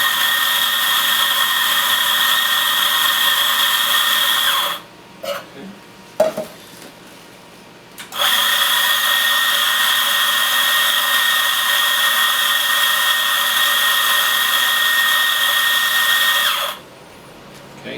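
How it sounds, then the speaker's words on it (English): Coffee grinder milling espresso beans beside a Vibiemme Electronic Super HX espresso machine whirs at a steady high pitch, stops with a few knocks and taps, then runs again for a long stretch before shutting off. "You got to clear some coffee out of the grinder."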